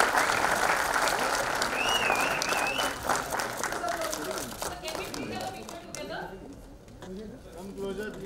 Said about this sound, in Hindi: पूरी तालियों की गर्जना यहाँ पे होनी चाहिए।